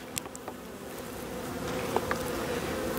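Honeybees in a healthy winter colony at an opened hive during a December treatment make a steady, close insect buzz. A few brief higher clicks and rustles sit over it, with no voices.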